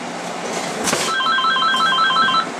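A telephone bell ringing in repeated trilling bursts, fairly loud and close, preceded by a brief sharp thud.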